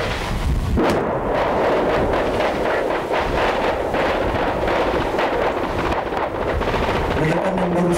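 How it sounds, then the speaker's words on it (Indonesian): Explosions and gunfire during a military assault simulation on an outdoor training ground, a loud sustained roar of blasts and bursts with wind buffeting the microphone throughout. "ledakan yang baru saja kita saksikan pada sektor kanan atau tepat di depan kita"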